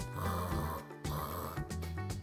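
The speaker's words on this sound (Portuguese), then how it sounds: "como esse seu ronco irrita!" Loud snoring in a cartoon-style sound effect, two long rasping snorts in a row, close and fairly prominent, with no talking over them.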